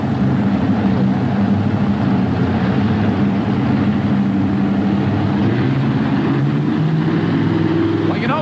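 A two-wheel drive super modified pulling truck roars with a dense, steady, loud engine drone at a 1988 truck and tractor pull in Hampton, Virginia, while an announcer talks over it.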